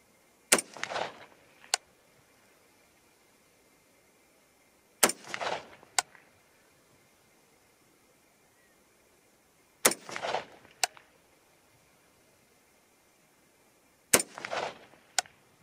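Four rifle shots from an MSR in 6.5 Creedmoor or .223 Rem, evenly spaced about five seconds apart, each a sharp close crack with a short echo, then quiet between shots.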